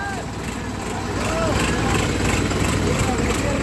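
A tractor engine runs steadily at a muddy, rainy tractor harrow-pulling competition in Madina, a loud low rumble with voices shouting over it nearby.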